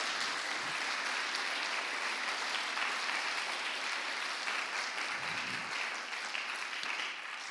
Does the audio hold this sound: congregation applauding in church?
yes